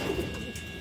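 A racing pigeon coos once, short and soft, close by, over a steady background hum.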